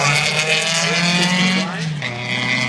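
VW drag racing cars, one of them a 67 model, launch off the start line at Warwick with loud engine roar, rising revs and some tire squeal, while a commentator's voice is faintly audible underneath.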